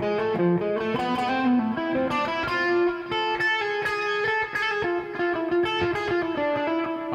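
A distorted electric guitar plays a fast harmonic minor phrase through an amp, a stream of quick single notes at a loud, close level with no talking.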